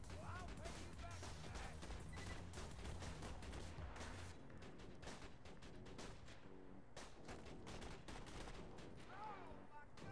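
A deployed sentry turret in the video game Borderlands 2 fires rapid, continuous gunfire mixed with other weapon shots and impacts, loud and dense for the whole stretch, with a player voice talking underneath.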